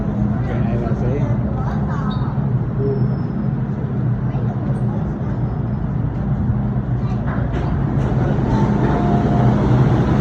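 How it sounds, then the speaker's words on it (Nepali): A train pulls into Wan Chai station in Hong Kong, its steady rumble and rolling noise filling the platform continuously, with people talking faintly in the background. "ट्रेन आइरहेको छ है।"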